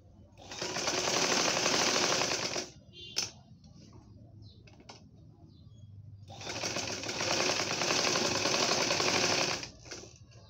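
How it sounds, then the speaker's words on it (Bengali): A sewing machine stitches the back neckline of a baby frock in two rapid, even runs of a couple of seconds each, separated by a quiet pause with faint handling clicks, close and clear. "আমি এখন পিছনের গলাটার মধ্যে গলাটা সেলাই করে নেব।"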